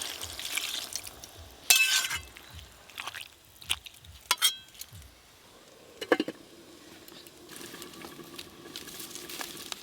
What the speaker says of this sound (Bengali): চাপা খুলে একবার ভালো করে নেড়ে দেবো